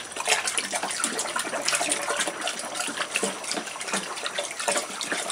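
Yeast being stirred into raspberry mead must inside a fermenter, a steady wet sloshing and swirling of liquid that continues throughout at moderate loudness with no voices.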